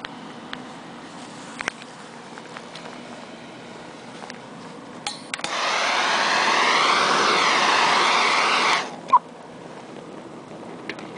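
An overstoked prototype wood chip burner has a fan blowing air into it. It roars up suddenly into a loud, steady rushing for about three seconds, then cuts off with a thump, and quieter background noise comes before and after.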